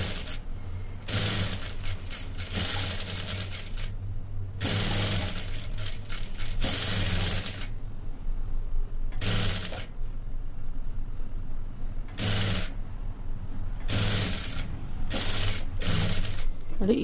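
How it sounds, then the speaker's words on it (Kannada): Sewing machine stitching a plain blouse, steady bursts of rapid mechanical whirring and clatter that start and stop every second or two, close, with quiet pauses between runs. "ನೀಟಾಗಿ ಇಟ್ಕೊಂಡು ಸ್ಟಿಚ್ ಮಾಡ್ಕೊಂಬನ್ನಿ."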